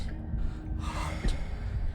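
A sharp intake of breath, a gasp in the video game Slay the Princess, rises briefly in the middle over a steady low background hum, with a second short catch of breath just after.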